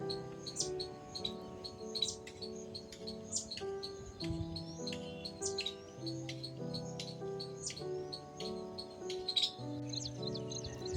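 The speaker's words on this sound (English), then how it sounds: "I truly enjoy listening to this bird sound" Several birds sing and chirp outdoors in a natural setting, with repeated bright twittering calls and trills overlapping across the whole stretch, fairly close and steady, with no voices.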